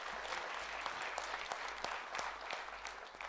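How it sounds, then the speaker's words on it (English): A conference audience gives a sustained round of applause, a moderate and even patter of many hands clapping at some distance, with individual claps standing out now and then. "So let's give a round of applause."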